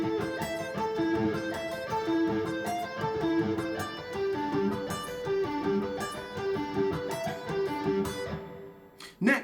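A shred guitar arpeggio lick played from the beginning, a rapid run of picked notes in a fast, even stream for about nine seconds, with no talk.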